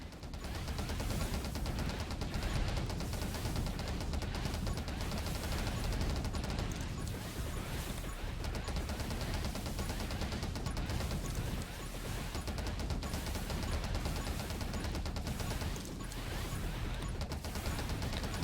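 Rubber bullets fire in a dense, nonstop stream of rapid shots and ricochets in the 20 Minutes Till Dawn video game, loud and steady throughout with no talk.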